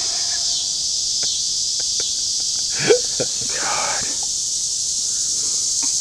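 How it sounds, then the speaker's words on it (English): Steady high-pitched insect chorus droning in the woods, loud and continuous throughout, with someone speaking briefly over it midway. "these freaking bugs from hell"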